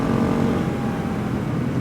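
An old KTM motorcycle engine droning steadily while riding on a curvy country road, a loud continuous hum close by with no voices.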